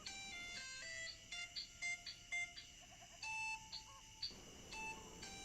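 A phone rings in a quiet home in a Tamil short film, giving a series of bright electronic melodic beeps in short repeating bursts that are clear but fairly soft.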